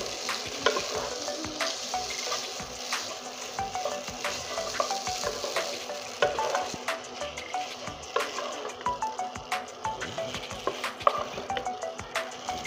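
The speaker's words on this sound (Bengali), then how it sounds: "এই দেখুন সুন্দর করে এখন ভেজে নেব আমি" Maggi noodles frying in a pan with eggs, a steady close sizzle broken by frequent rhythmic scrapes and clicks of a spatula stirring throughout.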